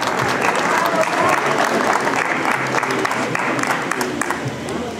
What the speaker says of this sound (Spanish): Todos lo recibimos con un aplauso